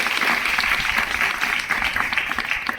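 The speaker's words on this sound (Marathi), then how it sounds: "एकदा टाळ्यांचा गजर तुमच्या सर्वांसाठी करा" Devotees at a Swaminarayan temple chariot festival clap together in dense, steady applause, loud and continuous for a few seconds.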